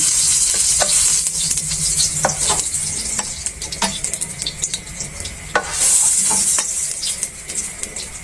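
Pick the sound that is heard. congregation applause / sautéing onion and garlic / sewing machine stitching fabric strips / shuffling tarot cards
sautéing onion and garlic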